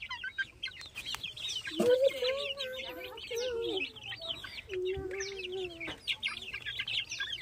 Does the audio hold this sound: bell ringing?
no